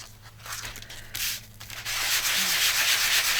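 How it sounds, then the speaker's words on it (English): A sanding block rubbed over painted faux leather: scratchy back-and-forth rasping strokes, close and loud, that turn into a steady, continuous scrubbing toward the end. "I'm going to go back over them with Mr. Sanding Block"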